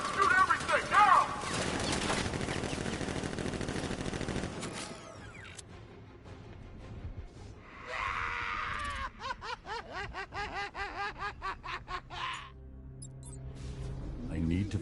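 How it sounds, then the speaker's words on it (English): Guards in a Batman game firing: a loud burst of gunfire at first, then later bursts of repeated rapid shots in quick succession, mixed with voices and laughter. "Guard! Open fire! Shoot everything, now!"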